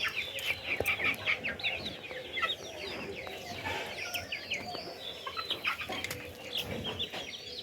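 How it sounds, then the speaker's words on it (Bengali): Chickens at a village home in rural Bengal cluck steadily in a busy flock, with overlapping calls and occasional wing flaps at close to mid distance, and no speech. "দেখো কত মুরগি"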